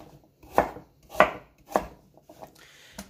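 A knife chops steamed taro into small pieces on a board: three firm, evenly spaced thuds, then a few lighter taps and one more cut, close and clear with no talking.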